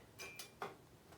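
A few quick metallic clinks and clatters as small metal tools are bumped by a hip and knocked together, three light hits close by in an otherwise quiet room.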